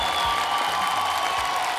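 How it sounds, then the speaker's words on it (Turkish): Studio audience applauding on a Turkish masked-singer TV show, steady loud clapping with some crowd noise throughout. "alkışlıyoruz"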